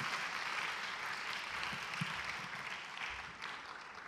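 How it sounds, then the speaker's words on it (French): A church congregation claps for Jesus during a French-English service, a broad, steady wash of applause from many hands filling the room without pause, moderately loud and even throughout. "Clap for Jesus."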